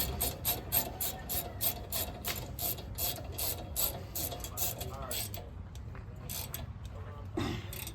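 Rapid ratchet clicking in repeated bursts as bolts are tightened on a truck's brake assembly during a brake and rotor change, close and steady before pausing near the end.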